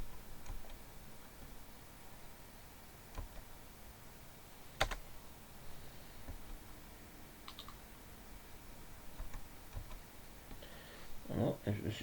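Scattered computer keyboard key presses click sparsely over a quiet room hiss, with a few isolated taps and a small cluster of clicks near the end.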